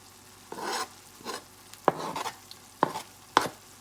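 Onions and green onions dropped into a hot pan, with a few sharp sizzling bursts and stirring scrapes separated by quiet gaps, close and moderately loud.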